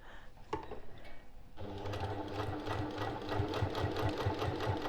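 Sewing machine stitching the French seam of a boxed zipper pouch at a short stitch length, running steadily and close after a brief start, with a fast regular needle rhythm and no talking.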